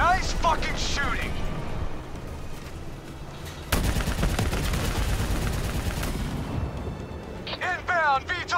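Dense gunfire rattles through combat in the Call of Duty: Black Ops III video game, with heavy automatic bursts and booming impacts. Shouted voices break in at the start and end.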